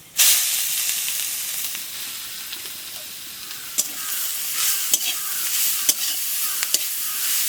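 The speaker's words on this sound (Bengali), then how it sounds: "দিয়ে দিচ্ছি সর্ষের তেল একটুখানি সর্ষে আর শুকনো লঙ্কা দিয়ে দিচ্ছি তেলে এবার গ্রেট করা গাজর দেবো" Grated carrot frying in hot mustard oil with mustard seeds and dried chilies gives a steady, loud sizzle, broken by a few sharp clicks and scrapes of stirring.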